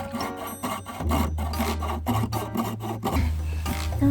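A handsaw cuts a wooden board during a DIY conversion of a kei van into a camper, giving quiet, rhythmic rasping strokes back and forth at close range.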